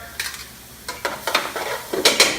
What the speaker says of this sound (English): while our Mirepoix is sauteing